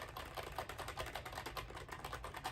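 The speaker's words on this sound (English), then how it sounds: "I'm typing about my notes" Rapid typing on a computer keyboard, close and clear, a quick uneven run of key clicks that continues for the whole stretch, no voices.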